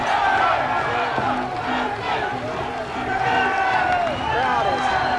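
Arena crowd roars and cheers during the last round of a European title boxing match, a loud continuous din of shouting voices rising and falling, with commentary over it.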